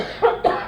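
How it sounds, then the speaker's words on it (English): Two short, harsh coughs close to the microphone, a fraction of a second apart, with no talking. "That's the cough I'm talking about."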